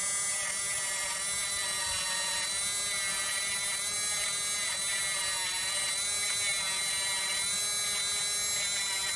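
A power tool with polishing compound works a Sig Sauer P365 trigger part, giving a steady, close, high-pitched whine and buzz that holds evenly without pause.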